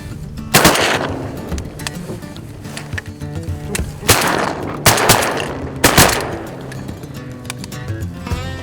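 Shotgun blasts while duck hunting for diver ducks, several sharp loud reports spaced a second or so apart, close by against a noisy outdoor background.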